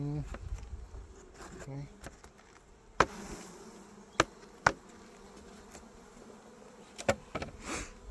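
Bees buzz around an open hive with a full queen and many layers of comb, a soft, wavering drone of insects close by, broken by sharp clicks and knocks, with a brief spoken word.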